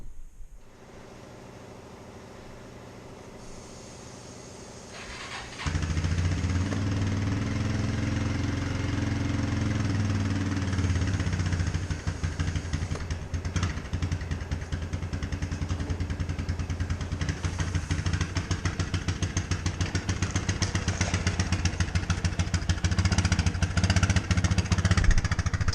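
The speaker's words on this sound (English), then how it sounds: "get a couple lawn tractors going" Lawn tractor engines running on a ranch, a quiet low hum at first, then a louder, steady rumbling idle after about six seconds that continues unbroken and close by.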